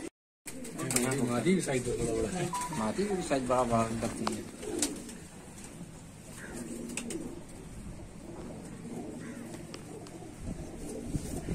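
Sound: pigeons cooing

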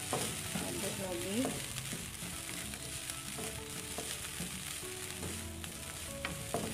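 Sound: stirring fried rice with kaffir lime leaves in a pan

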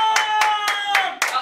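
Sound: hand clapping for a clapping quiz

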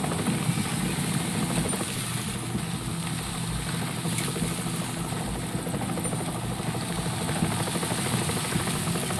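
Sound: news helicopter engine in Splinter Cell Double Agent video game

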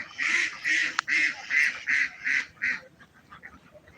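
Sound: ducks quacking at a duck farm

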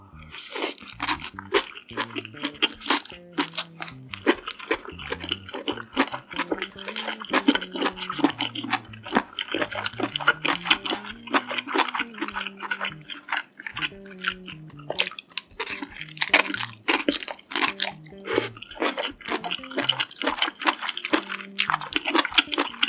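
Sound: eating king oyster mushroom with jjajang, crunchy chewing

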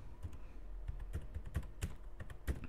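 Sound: computer keyboard typing a command in AutoCAD

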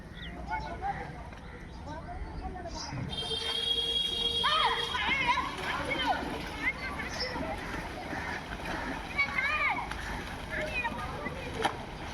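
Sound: boys splashing while playing football in flooded stadium

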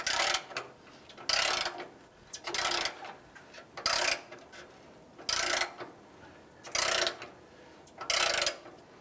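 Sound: 14 mm socket ratchet loosening exhaust flange bolts

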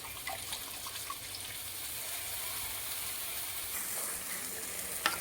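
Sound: tamarind juice poured into frying fish curry base, sizzling

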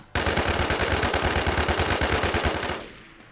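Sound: IMI TAR-21 rifle gunfire in the video game Infestation

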